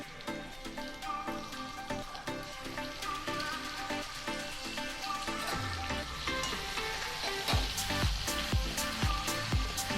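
Bengali home-style cooking: tomatoes tipped into a pan of half-fried potatoes, setting off a loud, steady sizzle with scattered splatter and a few clattering knocks, close and continuous, with no talking.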